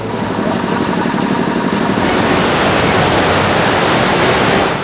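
Floodwater from a sudden dam release rushes under a bridge on the Pili river on National Highway 74 at Afzalgarh, a loud, steady, broadband roar that never lets up, with no voices.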